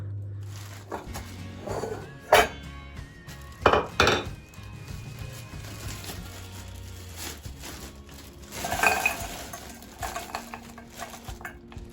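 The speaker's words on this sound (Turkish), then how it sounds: "Şimdi suya koyup kaynatayım." Frozen sour cherries from the freezer tumble into water in a cooking pot, with a few sharp clinks and a soft clatter of cookware against a quiet kitchen background.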